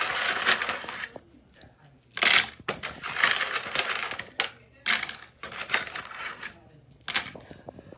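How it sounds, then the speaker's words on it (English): Heavy coins drop and clatter into a cup in several separate bursts with short pauses between them, each pour sounding bright, metallic and close. "and then I fill this cup up with coins"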